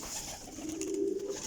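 Pairs of pigeons in a breeder's lofts coo steadily, a low murmuring call that swells near the end over faint background noise, with no voices.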